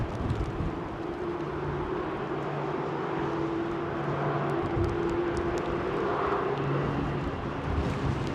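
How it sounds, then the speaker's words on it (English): An aircraft departs runway 27 right at Heathrow, a steady, loud broadband jet roar that holds constant throughout with no voices. "That's your last departure out of 27 right."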